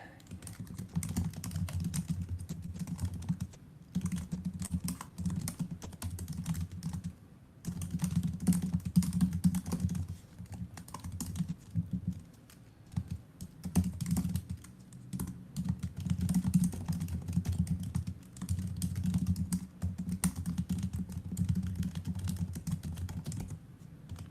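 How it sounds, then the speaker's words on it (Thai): Steady typing on a computer keyboard, quick irregular clicks in bursts with short pauses, close and fairly quiet, with no voices over it. "ขอพิมพ์แป๊บหนึ่งนะ"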